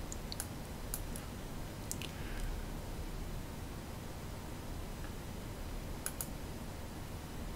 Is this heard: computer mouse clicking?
yes